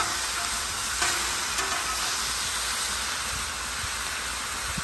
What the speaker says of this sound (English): You always fry the corned beef up on one side and get it fried good on one side.